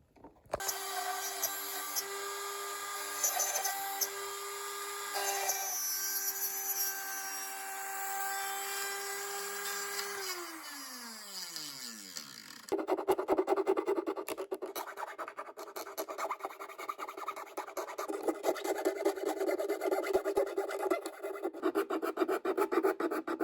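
A tool whines steadily and winds down, then rough rhythmic rasping as F-holes are sawn and filed into the wooden top of a 1963 Epiphone Professional guitar, close and moderately loud.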